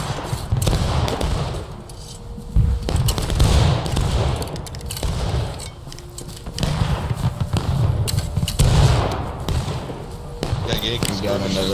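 Musket volleys and cannon fire in a realistic Civil War battlefield game, with repeated gunshot bursts and booming thumps throughout, under almost constant talk from a commander.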